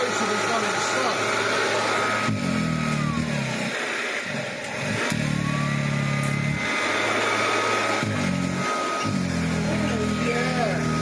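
An antique vacuum cleaner, one of a pair about 74 years old, hums steadily with its motor turning slowly because a brush roll has slipped out of place, a droning whine in the foreground while people talk over it.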